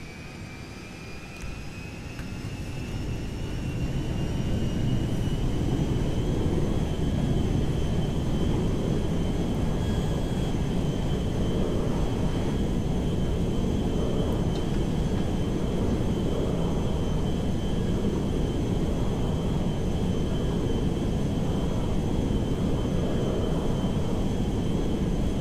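Aircraft taking off in GTA5, engine roar building over the first few seconds into a loud, sustained rumble with a high whining tone sliding upward and holding steady to the end.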